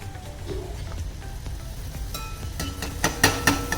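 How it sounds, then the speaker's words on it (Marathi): Anarsa, a Maharashtrian rice-flour sweet, deep-frying in medium-hot oil, giving a continuous close sizzle that builds into crackling bursts and a few light clinks near the end. "हा अनारसा जो आहे ना हा असा आपण तेलात टाकून घेऊ"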